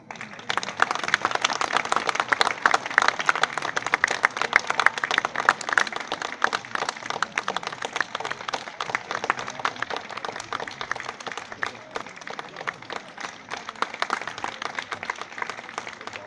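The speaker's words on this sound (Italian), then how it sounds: "Ed ora accogliamo con un grosso applauso il nostro maestro" A concert audience applauds the band's conductor as he is welcomed onstage, dense sustained clapping from a large crowd that stays loud, then thins slightly toward the end, with no talking over it.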